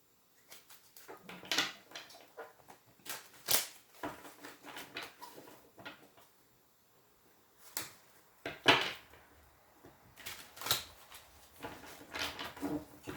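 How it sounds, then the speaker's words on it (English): Tarot cards are shuffled by hand in a quiet room, giving scattered soft riffles and taps that come in short bursts with pauses between them. "we'll give it a couple more shuffles"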